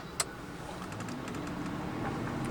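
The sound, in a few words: Mercedes 600SEL M120 V12 car driving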